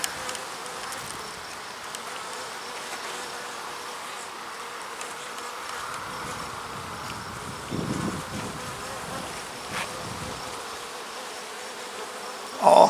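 Honeybees buzz steadily on a frame pulled from a hive during an inspection, a dense continuous drone close by with small swells in loudness and no talk.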